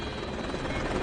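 A rescue helicopter hovers near a burning building amid thick black smoke, its rotor and engine roar loud, dense and steady over a short moment.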